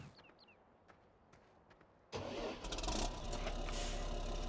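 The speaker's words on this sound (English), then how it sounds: "the largest tractor we have on farm here, a New Holland T8 435 here." A New Holland T8 435 tractor in Farming Simulator 17 cranks and fires up midway through, its engine catching abruptly after quiet ambient birdsong and then settling into a loud, steady, rumbling run.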